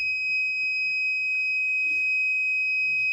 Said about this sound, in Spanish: Llega a 28 grados la temperatura y se activa la alarma